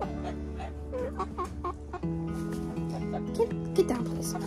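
Chickens clucking in a coop where hens are being sorted from roosters, with intermittent close clucks and a few sharper squawks over a steady low background hum.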